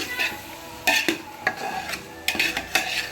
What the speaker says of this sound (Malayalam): അതുപോലെ ഇളക്കി കൊടുക്കുന്നുണ്ട്.